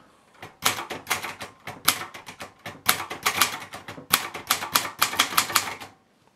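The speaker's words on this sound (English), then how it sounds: "Now it's time to type." Rapid bursts of keystrokes on a Silver Reed Silverette portable manual typewriter, sharp mechanical clacks in uneven clusters with brief pauses, close and fairly loud, no voices.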